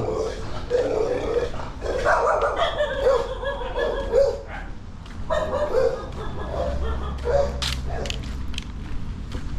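A big dog barks repeatedly at close range over a continuous background hum, with occasional creaking and a voice mixed in.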